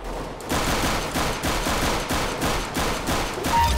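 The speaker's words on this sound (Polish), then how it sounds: "Ja strzelam bota, tak." Rapid automatic gunfire in Counter-Strike: Global Offensive while shooting a bot: a steady stream of loud, evenly spaced shots in short bursts, close and alone without talk.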